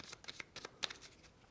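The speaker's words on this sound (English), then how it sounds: "Again, giving those cards a good shuffle." A deck of Stonesaga board game cards shuffled by hand, a close, quiet run of brisk riffling bursts with short gaps between them.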